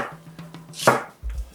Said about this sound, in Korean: 양파 반 개도 썰어줍니다